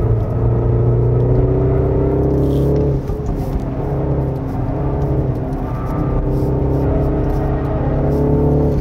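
Engine of a 2024 Mini JCW Countryman ALL4 on a winding mountain road: a loud, steady cabin drone with a deep rumble and whir, dipping slightly midway as the car eases off, then pulling again, with no talk.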